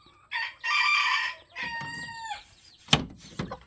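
A red junglefowl (labuyo) rooster crows up close, a strained, choppy call with a rising-falling tail, followed by a few sharp clucks and rustles.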